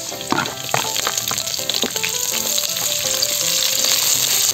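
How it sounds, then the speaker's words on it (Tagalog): Ginger, garlic and onion sauté with beef skin and beef fat in a hot pan, giving a steady, close sizzle with a few clacking stirs early on, alone with no talk. "Gisahin na muna natin mga idol."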